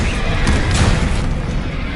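Bombarda blasting spell exploding in the Hogwarts Legacy video game, a single loud booming blast with a noisy, rumbling tail filling the two seconds, close and forceful.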